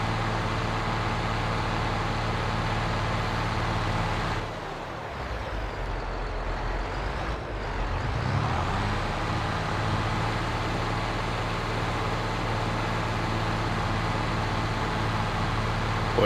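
A truck engine in Farming Simulator 22 drones steadily at close range during a soybean harvest, with a brief dip and a rumbling shift midway before the hum settles again, no talk.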